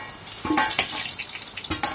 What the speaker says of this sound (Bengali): আলুগুলো একটু উল্টে উল্টে দিচ্ছিলাম, যাতে এপিটে পিঠে একটু ভাজা হয়ে যায়